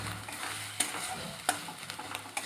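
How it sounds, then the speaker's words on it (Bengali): Onion with ginger-garlic paste is stirred and fried in a pan for an egg-white omelette curry: a steady close sizzle with scraping stirs and three sharp utensil clinks against the pan. "পেঁয়াজটা নেড়ে চেড়ে যখন দেখবেন পেঁয়াজের কাঁচা গন্ধটা চলে গেছে বা পেঁয়াজটা ভাজা হয়ে গেছে তখন আদা রসুন বাটাটা দিয়ে নাড়াচাড়া করে আমি ভেজে নেব"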